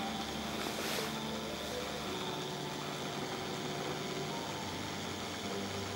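A washing machine motor runs up to speed slowly, producing a faint, steady electric whine and low hum with no other sounds.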